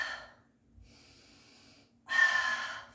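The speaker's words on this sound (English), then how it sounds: "Full inhale, full exhale, belly button." Deep breathing during a Pilates mat exercise: a close breath, a quiet pause, a softer breath, then a louder, forceful exhale, each airy and isolated with no talk over it.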